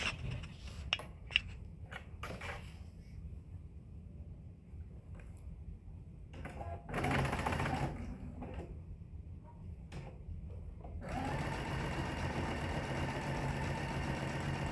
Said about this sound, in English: clip it so it stays in place, and then sew my 1/4 inch